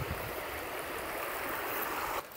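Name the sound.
small river flowing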